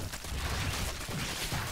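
Baneling explosions in a StarCraft II Zerg-versus-Zerg match, a dense, continuous crackling roar of bursts packed together and filling the moment without pause.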